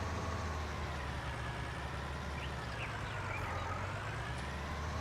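A tractor engine idles in a farming video game, giving a low, steady, quiet drone with an even rumble that holds without change from start to finish.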